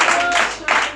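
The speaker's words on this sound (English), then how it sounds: "stand on your feet and clap hands for Jesus" A church congregation clapping hands for Jesus in short, uneven bursts, with a preacher's raised voice carrying over the clapping throughout the brief moment.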